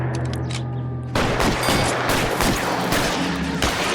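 Rapid gunfire from a shootout in the video game LA Noire erupts loudly and fills the scene, a dense fusillade following a brief quieter stretch at the start.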